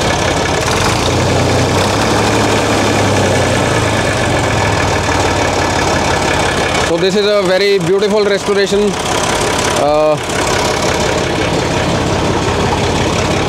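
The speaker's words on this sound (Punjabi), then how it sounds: "ਐਗਜ਼ੌਸਟ ਨੋਟ ਬਹੁਤ ਸੋਹਣਾ ਟਰੈਕਟਰ ਦਾ।" A restored Massey Ferguson 135 three-cylinder tractor idles with a steady, even exhaust note throughout, while someone speaks over it in the middle stretch.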